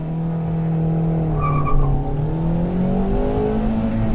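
A Hyundai i10 is driven hard and fast, its engine droning and shifting pitch under load with hints of tire noise. It is loud and continuous, with no voices.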